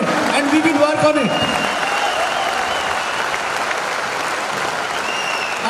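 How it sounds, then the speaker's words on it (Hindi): A crowd applauds steadily, a dense wash of clapping that holds throughout, with a voice briefly audible at the start over it. "एक बार तालियां बजा के बताइए कि हम इसका पालन करेंगे"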